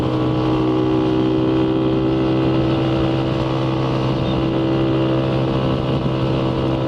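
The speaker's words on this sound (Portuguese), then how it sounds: "minha moto, o carburador tá falhando em alta" Motorcycle engine running steadily at high revs, its carburetor misfiring, a loud continuous drone with strong harmonic bands and a rough, faintly uneven texture, close to the mic with no talk over it.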